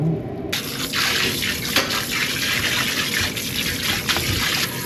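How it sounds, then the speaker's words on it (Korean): Running tap water pours steadily into a sink as beef bones and meat are rinsed under cold water while making gomtang bone broth, a continuous close gush with splashing that starts after a brief quiet moment. "국물은 버리고 뼈랑 고기는 찬물에 씻어서 이제 제대로 다시 끓일 거예요"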